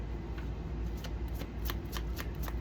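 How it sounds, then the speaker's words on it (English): A deck of cards is shuffled close by, a quick run of crisp riffling flutters and soft taps over a low background hum. "they want me to shuffle and actually get one more"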